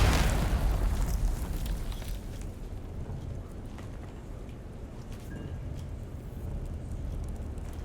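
Rumbling mine explosion in Dune Awakening opens with a loud, deep boom that decays into a long, low, noisy rumble lasting several seconds, with no talking.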